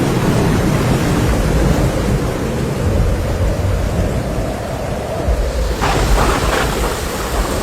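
A thunderstorm in Saudi Arabia roars with dense, continuous rain and rumbling thunder, loud and close with a deep low rumble building toward the end.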